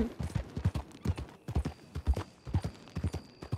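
Horse hooves clip-clop steadily on the ground in the RedM (Red Dead Redemption 2) game, a close, even trotting rhythm of about two dozen hoofbeats with no talking.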